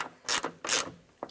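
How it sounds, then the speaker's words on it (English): Door check bolts on a 2001-2007 Toyota Highlander are tightened with a hand ratchet, giving two close, quick clicking bursts and a brief third click. "Let's tighten these up first"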